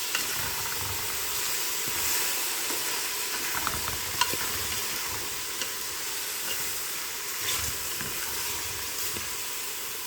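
Celery and other vegetables sautéing in a pot for bean soup with chicken sausage, a steady close sizzle and hiss with a few faint stirring clicks throughout.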